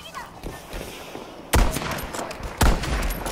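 Gunfire in Battlefield on the Pacific Storm map sounds as two sharp, loud shot bursts about a second apart, with rapid fire and low booms rumbling beneath. Players talk faintly under the shooting.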